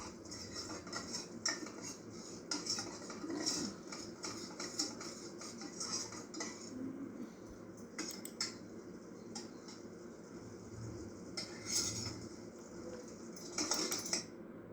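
Vegetables, kuska masala and rice being sautéed in a pan, with a steady low sizzle and frequent light clinks and scrapes of a spoon against the pan throughout, no talking.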